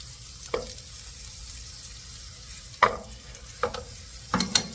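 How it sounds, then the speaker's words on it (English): Steady hiss of pork tenderloin searing in a hot pan, broken by a few sharp clicks and scrapes of utensils. "we are going to sear this for 4 minutes on each side. Get ready for the sizzle."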